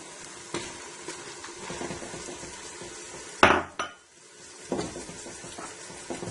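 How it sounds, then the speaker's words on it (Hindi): Minced meat (keema) being stirred and fried in a pan for a traditional keema and beans dish, with a soft sizzle beneath scraping spoon strokes and a sharp metallic clank from the spoon on the pan midway. "और हम कीमे को अच्छे तरीके से इसमें भून लेंगे।"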